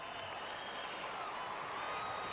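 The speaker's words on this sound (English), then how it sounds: "You can see her teammates on the side cheering her on" Faint, distant applause and cheering from teammates at a collegiate gymnastics championship forms a continuous crowd wash with no distinct claps standing out.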